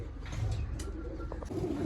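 Pigeons coo softly in a loft, low repeated calls blending into a steady background murmur, with no one speaking.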